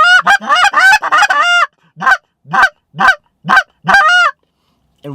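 A goose call works through a sequence of clucks, honks and moans imitating geese on the ground: a rapid burst of sharp honks, then spaced single calls with short silences between, loud and close.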